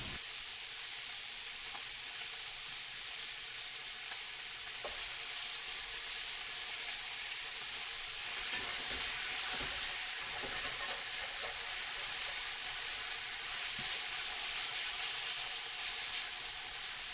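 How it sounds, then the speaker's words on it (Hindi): Aloo chole tikki frying in oil until crispy, giving a steady, loud sizzle and hiss with occasional pops and spatters throughout, with no talking. "क्रिस्पी होने तक फ्राई करो।"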